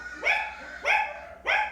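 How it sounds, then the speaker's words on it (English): Three evenly spaced, high-pitched barks from a nearby dog ring out clearly and alone, each short and sharp. "It's a dog."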